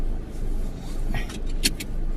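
A car idles and rumbles while being parked, with a low steady engine drone and a few light clicks and jangles near the end.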